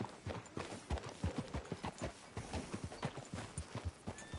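Horse hooves clip-clop in a quick, steady rhythm of distinct thuds, moderately close and fairly quiet, with no other prominent sounds, in the video game Red Dead Redemption.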